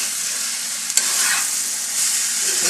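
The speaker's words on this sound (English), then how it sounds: "So this has now been frying for at least 3 to 4 minutes." Sausage and vegetables fry in a hot pan, a loud continuous sizzle with a brief clack of stirring partway through, heard close up and with no talk.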